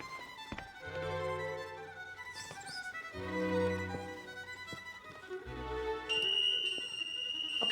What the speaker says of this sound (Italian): Ok ragazzi, è l'allarme per l'evacuazione.